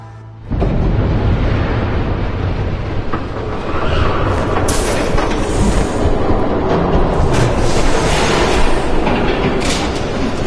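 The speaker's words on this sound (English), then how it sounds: "There's a train coming." A train rumbles past in Batman: The Telltale Series, starting abruptly and then holding as a loud, continuous roar with metallic rattling and screeching for about ten seconds, with no voices.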